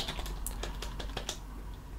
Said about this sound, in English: let me type first